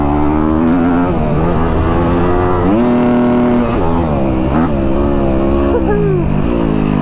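A Kawasaki KX250F dirt bike ridden hard, its engine loud and close, rising and falling through repeated revs and gear changes with a rough, buzzing four-stroke tone.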